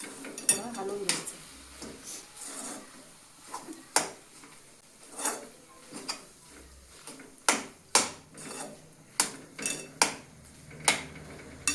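Samosa filling being stirred in a pan over low gas, a spoon clinking and scraping against the metal in irregular sharp taps, close and fairly clear with faint background.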